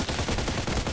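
An RPK machine gun firing in the shooter game Contract Wars, a rapid, loud stream of rounds in an even rhythm, heard up close for about a second.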